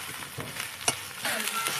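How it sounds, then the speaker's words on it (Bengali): Potato and pointed gourd with spices being stir-fried in a pan, a soft sizzle with scraping stirs and one sharp clink of a utensil, close and fairly quiet. "এখন আবার ভালো করে কষিয়ে নেব"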